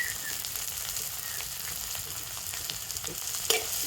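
Chopped onions and crushed garlic fry in hot oil, giving a dense, even, close sizzle throughout with occasional light scraping ticks from stirring and one sharper clink near the end, with no talking.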